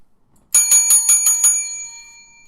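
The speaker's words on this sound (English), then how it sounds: "Too early in the morning for the bell." A bicycle-style bell rings about six quick bright dings in a row at close range, then the metallic tone rings on and fades out, with no talking.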